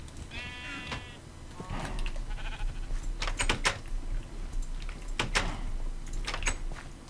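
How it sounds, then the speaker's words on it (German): Sheep bleating in the video game Minecraft, several wavering bleats near the start followed by sharp clicking and thudding game sounds, with no talking. "Komm Schaf, komm Schaf."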